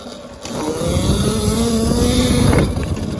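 Budget electric dirt bike, a Surron-style e-moto, accelerating in second gear on a road, a rising motor whine with wind rush that swells and then eases off near the end.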